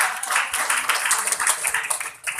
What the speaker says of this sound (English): Let's give ourselves a big applause.